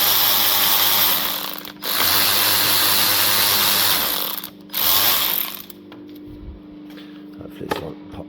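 A ratchet works the bolts on the rear rocker cover of a Honda VTR 1000 motorcycle, long bursts of rapid close clicking that stop and restart, followed by quieter fiddling sounds.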